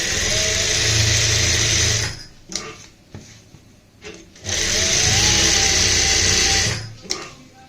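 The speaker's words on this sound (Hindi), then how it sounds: "अब हम एक एक करके यहाँ पे इन निशानों के ऊपर सिलाई लगाएंगे।" Sewing machine stitching along marked lines on plain fabric for a double-lace neck design, two loud sustained whirring runs of about two seconds each separated by a quiet pause with small handling clicks, close up and alone.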